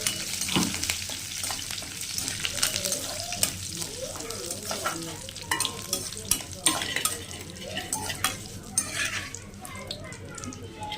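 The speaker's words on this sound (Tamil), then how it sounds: "ஒரு கைப்பிடி அளவு கருவேப்பிலை போட்டு நல்லா பொரிச்சு எடுத்துக்கோங்க" A handful of curry leaves frying in hot oil until crisp, bubbling and crackling steadily while a spoon stirs and scrapes the pan, with faint voice-like sounds in the background.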